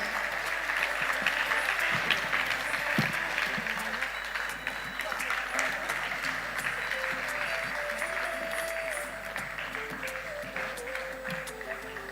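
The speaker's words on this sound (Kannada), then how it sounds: "ನಾವೆಲ್ಲರೂ ಜೋರಾದ ಚಪ್ಪಾಳೆಯ ಮೂಲಕ ಇವರನ್ನು ಅಭಿನಂದಿಸೋಣ." Sustained audience applause at a Bharatanatya dance debut ceremony, steady clapping from a crowd filling the room for about twelve seconds, with faint voices and some background tones mixed in.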